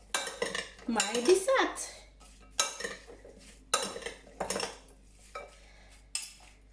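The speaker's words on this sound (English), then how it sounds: "Then we mix everything together" A utensil clinks and scrapes against a bowl as fruit dessert is stirred together, in sharp rhythmic bursts close by, with a brief spoken phrase near the end.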